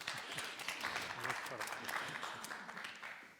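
Audience applause at an international security and civil society conference in Narva, Estonia, a steady wash of clapping from a crowd with a few voices mixed in.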